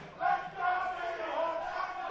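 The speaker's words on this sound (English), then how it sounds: "Another manageable 3rd down situation as the crowd rises up for Sutherland" A crowd cheers at a 2016 Gridiron NSW Kookaburra Bowl football game between the Sutherland Seahawks and UTS Gators, a steady, swelling roar of many voices that rises in waves without letup.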